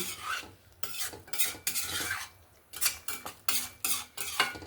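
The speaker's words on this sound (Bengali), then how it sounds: "এবার আমি এখানে অল্প পরিমাণে একটু জল ব্যবহার করব, ভালো করে আবারও নাড়াচাড়া করে নেব" A spoon scrapes and stirs spring onion curry with a little water in a pan. The clinking, rasping strokes come in quick irregular bursts separated by short pauses, close and fairly soft.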